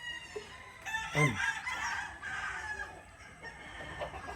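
A young Boston Roundhead cross Machine Kelso gamecock rooster at a game farm crows once nearby, a rising strained call, with soft clucks and faint farm background around it.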